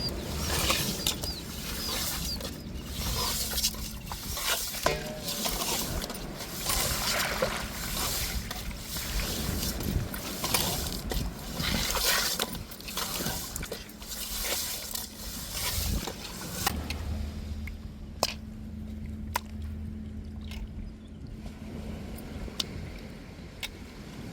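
Rough, rhythmic scrubbing and grinding strokes of rock salt against tuna fish repeat steadily for a long stretch, close up, then give way to quieter, scattered clinks and handling sounds.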